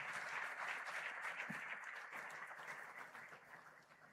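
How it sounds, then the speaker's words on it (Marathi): Sustained audience applause at a Marathi student-wing stage event, a dense wash of many hands clapping steadily for the full stretch, gradually easing slightly toward the end with no talk over it. "ह्या दोन्हीही महान विचारवंत आणि कृतिशील विचारवंतांसाठी जोरदार टाळ्या झाल्या पाहिजेत"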